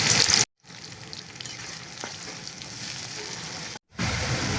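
Onion and green chili frying in oil for a prawn and bitter gourd stir-fry, a steady loud sizzle broken by two short silent gaps, with no talk.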